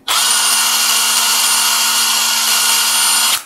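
A Blackfoot cordless impact wrench rated 600 Nm, fitted with a 4 Ah battery, runs in one steady, loud, high-pitched whine that holds for about three seconds and then stops.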